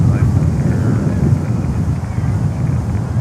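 A KLM Boeing 747-400 arriving from Amsterdam at Miami airport gives a steady low jet roar, muffled by wind buffeting on the microphone, and a voice talks over it.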